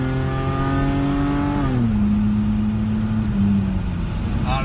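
A BMW E30 engine revs up and holds a steady, loud tone, then drops to a lower pitch and settles, heard close and alone with no talking.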